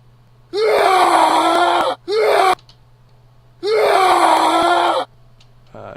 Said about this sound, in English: If you step in it, you scream, and it hurts.